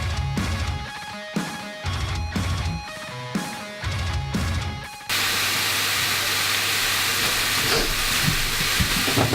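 Minced meat tossed into a hot pan with onion for meal prep, first a few crackling bursts, then a steady loud sizzle with hiss close by, no talking.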